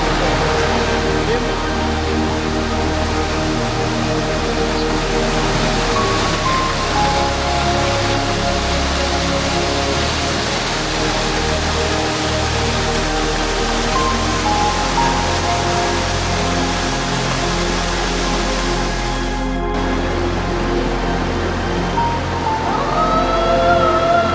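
A constant, roaring rush of falling water at Kanarra Creek Falls, between granite walls, steady and loud, with a low rumble underneath and faint tonal hum throughout.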